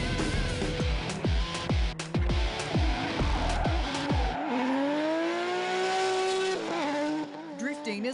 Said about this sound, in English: Drifting is one of the fastest growing motorsports in the world, and Jake Jones can certainly keep up with t